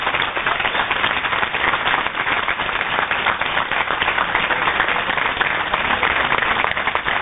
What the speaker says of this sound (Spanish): Fuerte un aplauso para Marcos Díaz.